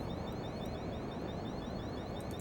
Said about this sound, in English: since I can't turn off the low oxygen alarm